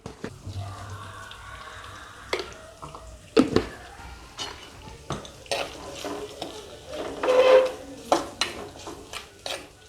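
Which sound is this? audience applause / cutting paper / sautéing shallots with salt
sautéing shallots with salt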